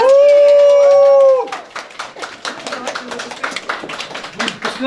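After a long, loud wavering howl, a group breaks into quick, uneven clapping that carries on as a busy patter of applause through to the end.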